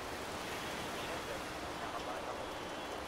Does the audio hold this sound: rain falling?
yes